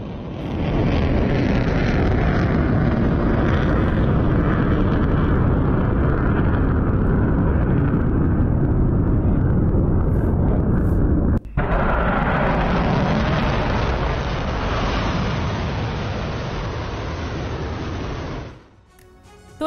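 Explosions from a missile attack on Israel: a loud, sustained rumbling roar runs almost unbroken, with a brief cut partway through and a fade near the end.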